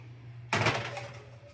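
An oven door bangs shut on a 275-degree oven as pork chops go in, one sharp close thud followed by a short fading rattle over a low steady hum.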